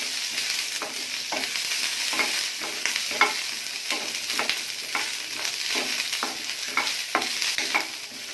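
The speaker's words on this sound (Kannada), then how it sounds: "ಚೆನ್ನಾಗಿ ಇದನ್ನ ಈಗ ಫ್ರೈ ಮಾಡ್ಕೊತೀನಿ." Two large onions frying in a pan, a steady hiss of sizzling broken by regular scraping strokes of a spoon stirring them, close and alone without voices.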